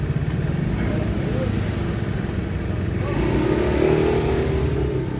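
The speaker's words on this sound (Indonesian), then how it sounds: "ada motor lagi." A motorcycle engine revs and drones continuously nearby, swelling slightly toward the end as it passes, with a steady loud roar throughout.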